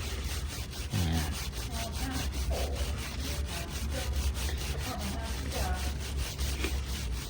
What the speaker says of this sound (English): And there's a lot of scrubbing, isn't there?